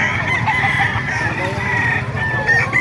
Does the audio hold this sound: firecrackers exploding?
no